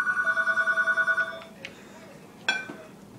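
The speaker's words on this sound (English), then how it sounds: "That is the phone ringing." A telephone bell rings in rapid repeated trills for about a second and a half, followed by a brief clatter and a short sharp knock, fairly clear against a quiet room.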